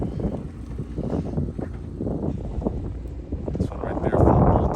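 Strong gusts buffet an outdoor microphone at a car meet during a fuel line install, low rumbling wind noise under nearby talk, rising louder near the end.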